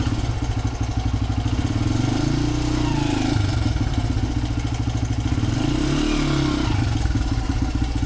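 A $300 used Honda dirt bike with a tight, badly adjusted clutch runs steadily after being restarted, its loud, close engine chugging and clattering without a break.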